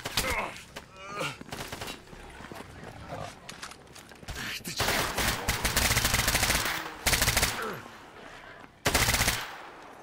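Gunfire in the video game Stalker GAMMA crackles in rapid automatic bursts and scattered shots, some loud and close, others more distant, with pauses between volleys and no talking.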